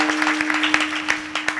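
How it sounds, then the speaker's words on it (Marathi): Applause for a harmonium player and accompanists at a Marathi Varkari kirtan in Bhalegaon Bazar: a crowd claps in a dense, continuous patter with a few sharper claps, heard over a sustained drone. "आमच्या विशाल दादासाठी जोरदार टाळ्या वाजवा."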